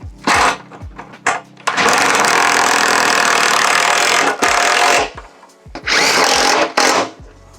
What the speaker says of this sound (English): now Matt is going to do these little rivets up